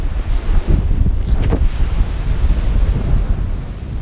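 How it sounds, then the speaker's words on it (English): Gale-force wind above 50 knots roars across the microphone at sea during a Force 10 storm, a loud, continuous buffeting with surging gusts and crashing surf, and no voices. "Soon the wind accelerated to reaching over 50 knots."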